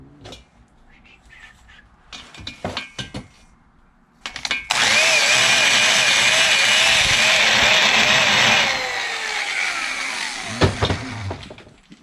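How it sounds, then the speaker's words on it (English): An air-cooled Volkswagen 041 head's valve face is ground on a valve grinding machine: scattered clicks and handling knocks, then a loud, steady whining grind for about four seconds, followed by more clattering. "I'll actually grind the valve face like we did the intakes."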